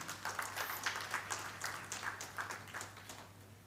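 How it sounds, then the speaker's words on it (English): Scattered clapping from a small audience at a presentation, faint and distant, fairly sparse with a low hum beneath it. "please, if you guys can clap for yourself"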